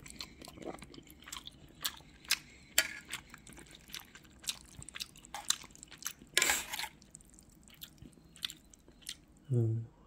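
Someone eating hot instant jjajang noodles, with soft slurps, wet chewing and small crunchy bites scattered through the clip, close and quiet, plus a louder slurp midway and a brief voice at the end.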